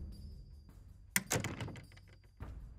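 Faint, quiet thumps and a rattling shuffle, like a hotel door being pulled open and then swinging shut a moment later.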